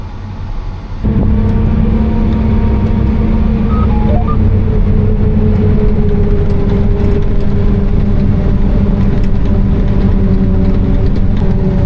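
Loud, steady engine drone of a prototype John Deere F9 forage harvester working a field, starting abruptly after a second and holding a constant low roar with tonal hum at around 1500 RPM.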